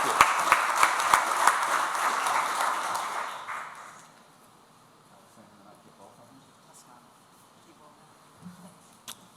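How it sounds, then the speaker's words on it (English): Applause from the audience at a Rotary club meeting, with a few sharp nearby claps, runs for about four seconds and then dies away into quiet room sound. "Please give one more round of applause for all of these people"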